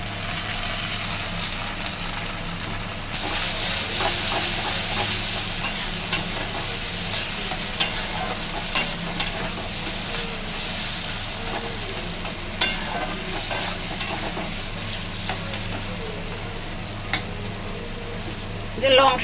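Ground snake gourd paste fries with onions already browned red in a pan, giving a steady sizzle broken by repeated scraping stir strokes, over a low constant hum.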